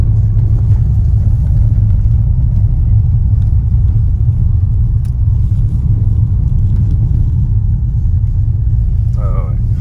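Steady low engine rumble inside a moving family car, a constant droning road noise filling the whole stretch with no clear changes in pace.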